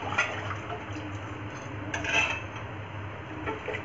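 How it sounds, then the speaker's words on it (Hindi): Marwari kadhi stirred in a pot on the stove, a soft, continuous scraping and sloshing with occasional faint clinks of the spoon against the pot, close and quiet. "कढ़ी को हमें हिलाना है नहीं तो ये फट जाएगी"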